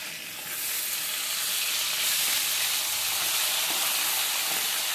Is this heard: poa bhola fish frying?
yes